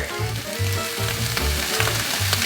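Onion powder and ginger hitting a hot pan with leftover chicken, a loud, continuous sizzle with a few rhythmic low pulses beneath it, close and steady throughout.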